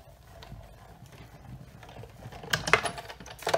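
Embossing folder with a cutting plate cranked through a manual die-cutting machine, a close ratcheting, clicking mechanical grind that grows louder and sharper toward the end, with no talking.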